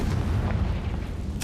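A Confringo spell blast in a Harry Potter video game, a heavy booming explosion with a dense low rumble that fills the brief moment.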